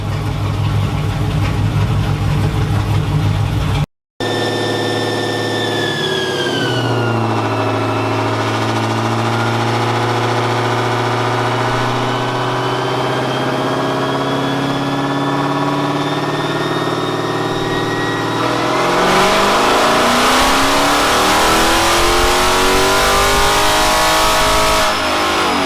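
A pickup truck with a 6.4 engine strapped down on a dyno idles steadily, then its engine note climbs and builds into a loud, sustained rev near the end.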